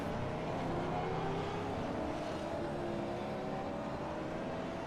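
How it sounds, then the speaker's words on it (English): V8 Supercars in the iRacing sim on a wet track roar past as a steady, loud engine drone with harmonic whine lines that shift in pitch and continue for the whole stretch without pause. "As these cars sound spectacular coming through."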